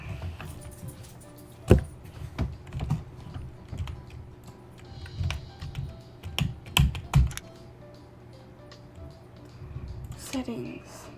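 Clattering keystrokes on an old computer keyboard, irregular taps and bursts of typing at close range, with a few louder key strikes and a low room hum underneath.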